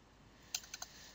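Three quick, faint keystrokes tapped on a computer keyboard while entering commands to set up an SSH server on CentOS, the clicks spaced close together over a quiet background hum.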